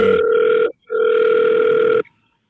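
An outgoing telephone call gives a ringback tone: two steady electronic buzzing tones separated by a short gap, loud and clear, then silence.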